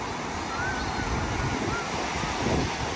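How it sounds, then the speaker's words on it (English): Atlantic Ocean waves break on Streeter Beach in Ireland, a continuous loud wash of surf mixed with wind buffeting the microphone throughout. "So this is the Atlantic Ocean"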